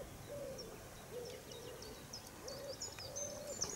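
Repeated soft owl hoots sound at intervals, with higher chirping bird calls scattered above them, moderately distant in a quiet outdoor setting along the River Wissey.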